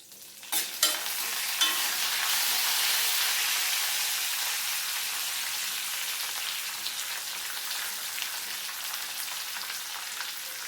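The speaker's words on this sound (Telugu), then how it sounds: "పప్పులు బాగా వేగుతున్నాయి" Lentils sizzle in hot oil as curry leaves are added. A sharp burst of spattering at the start settles into a dense, steady hiss that fades slightly, with faint stirring clinks near the pan.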